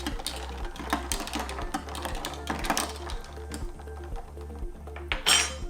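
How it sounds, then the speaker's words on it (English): A cocktail is stirred with ice in a glass, giving rapid, repeated clinks and rattles of ice against glass in a steady rhythm, close and clear over a low background hum, with a brighter clatter near the end. "We are going to give it a little stir to combine."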